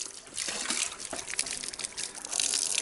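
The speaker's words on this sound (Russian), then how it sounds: "Мы включим воду." Water switched on aboard a boat, running and splashing in a steady gushing stream with fluctuating spatters, fairly close and alone.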